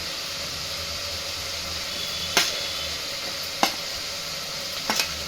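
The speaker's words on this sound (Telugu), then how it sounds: "వేగిపోయిన తర్వాత ఈ మసాలా పెట్టి వేపుకున్న వంకాయలు ఇందులో వేసేయాలి." Fried brinjals are added to tomato masala frying in a pan, giving a steady bright sizzle with three sharp clatters or stirring knocks spaced a second or so apart.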